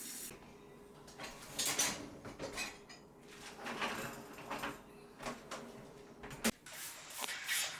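Rinsed dishes being loaded into a dishwasher in a home kitchen, a steady run of soft clatters, rack slides and clinks close by, with one sharp knock near the end and no talk.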